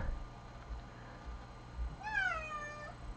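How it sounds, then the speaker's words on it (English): A house cat gives a single clear, drawn-out meow near the end, after quiet room background with soft rustles and no talking. "Oh, there's my cat."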